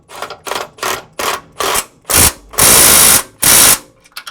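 A socket wrench ratchets on bolts of a truck transmission during an LS swap into an OBS Chevy truck with a 6-speed. A run of short, loud clicking strokes is followed by two longer, steadier ratcheting spins, close up and alone.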